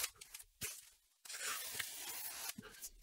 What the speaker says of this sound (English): We'll go ahead and get this cut open.